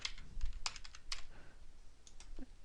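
A title being typed on a computer keyboard, a short run of quick, light key taps in an uneven rhythm, close and fairly quiet, with no one talking.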